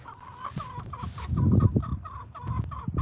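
Chickens clucking close by in a busy, uneven stream of short calls, some louder gobbling-like bursts mixed in.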